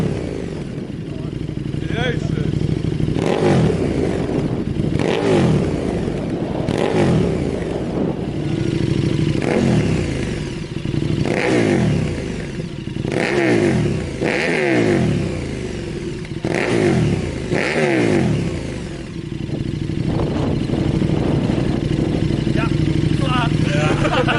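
A KTM motorcycle with a dry clutch revs in repeated rising and falling bursts close by, a steady rhythm of throttle blips with a mechanical clatter underneath.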